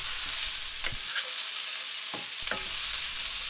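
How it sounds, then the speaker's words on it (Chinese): Green beans stir-fry with chili in a hot wok, giving a steady close sizzle broken by a few sharp scraping clanks of the spatula, with no voices. "有辣椒下去炒香。 接着加入芸豆"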